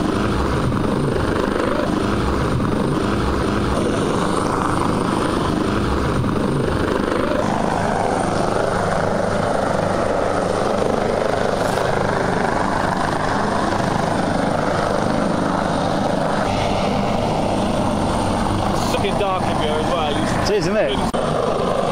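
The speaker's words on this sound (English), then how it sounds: "Helicopter's up on top of the rocks, look." A rescue helicopter's rotor thrums loudly and steadily throughout, a constant close drone with voices talking over it, during a lifeboat response to a vessel that hit rocks off Porthcawl.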